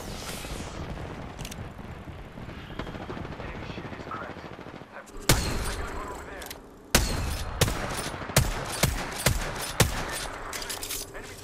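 Gunfire in the video game Apex Legends: after a dense noisy stretch, several sharp, loud shots crack out in an irregular series, each standing clearly above the background.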